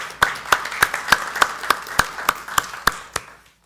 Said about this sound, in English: So I want to applaud them in their absence